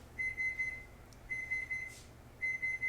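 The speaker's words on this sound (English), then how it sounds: "Turn off the timer. He can't hear the timer at all, okay?" A kitchen timer beeps in three bursts of rapid, evenly spaced electronic beeps, with short pauses between the groups, over a low background hum in an indoor kitchen.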